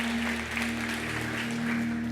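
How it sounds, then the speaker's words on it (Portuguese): Congregation applauding the Lord during a Sunday church service, a steady wash of clapping over a constant low hum and faint background sounds. "Você pode aplaudir ao Senhor"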